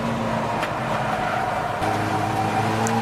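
Race car engine at Brands Hatch Indy circuit during a 750MC Roadsports race with Golf and TT TDI cars, a steady droning hum at moderate distance, rising slightly in pitch toward the end.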